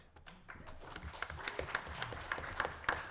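Light audience applause at a San Diego Comic-Con 2014 games panel. Scattered claps come from a small crowd, fairly faint and distant, building into a brief patter over a few seconds.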